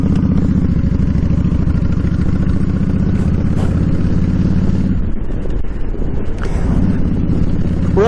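A motorcycle rides a winding lakefront road, its engine droning loud and close with steady rumble and some wind buffeting. It eases briefly around the middle before picking up again.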